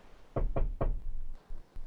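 Three quick, firm knocks on a door, close and loud, followed by a couple of fainter thuds, with no voices.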